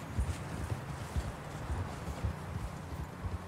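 Horse hooves clip-clop in a steady walking rhythm while riding in the Red Dead Redemption 2 video game, close and moderately loud over a low ambient rumble, with no voices.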